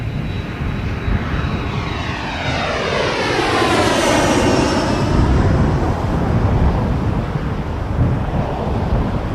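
Airbus A321neo jet in from Dublin passing at Toronto Pearson Airport, a loud, close engine roar with a sweeping whine that rises and falls over several seconds, heard alone with strong wind across the mic.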